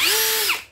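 A Japanese-market cordless drill with a 13 mm metal chuck and spindle lock whirs loudly and steadily, then its pitch drops briefly before the motor winds down to a stop.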